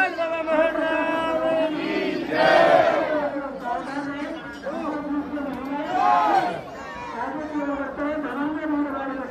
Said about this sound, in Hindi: बहुत ज़्यादा भीड़ है भाई आज तो रोज पे